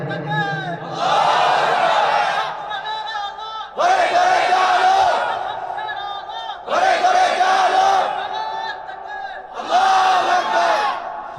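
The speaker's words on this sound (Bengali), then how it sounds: "তাকবীর দাও" At an Islamic sermon gathering, a large crowd shouts the takbir chant in four loud, sustained unison roars, each lasting a couple of seconds, with short gaps between them.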